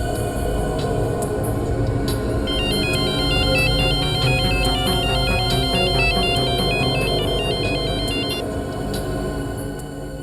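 A phone ringtone plays a repeating electronic melody for several seconds over a busy background hum, fairly loud and close, with no one speaking.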